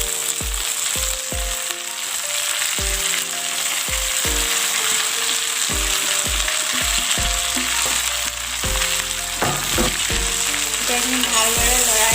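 Greens dropped into a pan of potatoes frying over a medium gas flame, a continuous close sizzle under a run of short tonal clinks and knocks from utensils, with no talk.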